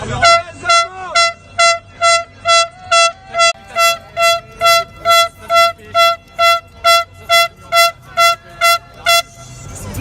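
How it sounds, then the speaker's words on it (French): A car horn blares in a steady run of about eighteen short, evenly spaced toots at a Gilets Jaunes (Yellow Vests) street protest, Act 17. The honks are loud and close, with faint background voices. "C'est pour toi le klaxon!"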